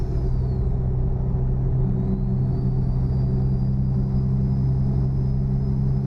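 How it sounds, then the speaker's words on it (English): A steady, low truck engine rumble from American Truck Simulator drones on without a break, loud and even, with a faint high whine riding above it. "you guys can just hear like the sound of the engine and stuff"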